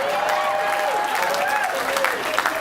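An audience breaks into loud, sustained applause mixed with cheering, a steady wash of clapping with a voice tone weaving over it.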